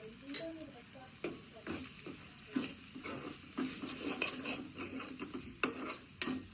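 Masala with garam masala and turmeric frying in a pan for crab curry, a close crackling sizzle broken by repeated scraping stirs of a utensil against the pan.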